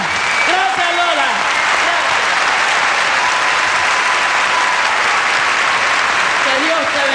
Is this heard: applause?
yes